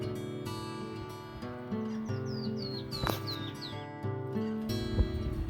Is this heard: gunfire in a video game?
no